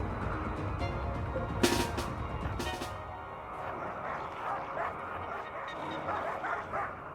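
Dogs barking in the RimWorld video game, a couple of sharp yelps and whimpers standing out over a dense, busy game soundtrack with no one talking.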